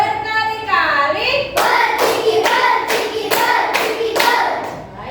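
A class of primary school children claps in bursts, a chanting voice leading between the sharp, evenly spaced rounds of loud, close, group clapping.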